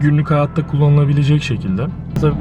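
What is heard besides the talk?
No everyday noise stands out behind the speech.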